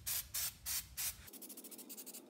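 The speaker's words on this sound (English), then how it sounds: "I'll hose it down with some prep spray to start breaking down the grime." Prep spray hisses onto a grease-coated knuckle from a Toyota 4x4 pickup solid front axle in four strong, evenly spaced bursts, followed by a quicker string of shorter, softer spurts.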